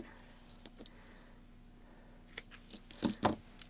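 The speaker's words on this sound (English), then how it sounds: "So you can cut the yarn." Scissors snip crochet yarn on an octopus keychain: a couple of faint clicks early on, then two sharp, close cuts near the end in a quiet room, with no talking.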